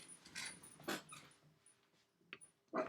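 A dog gives several short whimpers and yips with a sharper bark at the end, spaced irregularly, faint and indoors, with no one talking.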